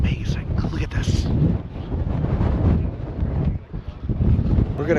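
Heavy wind roars across the microphone on Twin Peaks in San Francisco, nearly constant, with voices speaking underneath.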